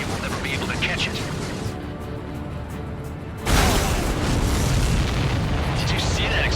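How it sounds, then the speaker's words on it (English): In the Ace Combat 7 video game, a supply ship explodes with a sudden loud boom partway through, then a sustained roaring rumble. Radio voices talk before the blast. "Did you see that explosion?"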